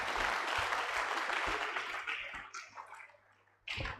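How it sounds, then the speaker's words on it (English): A crowd applauds with dense, steady clapping that gradually thins out and fades, followed by a brief burst of claps at the end. "Please, can we give him a round of applause once again?"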